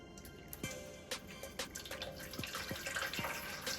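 Hot water pours and splashes into a baking tin in a kitchen, a steady trickle broken by small drips and clinks of metal.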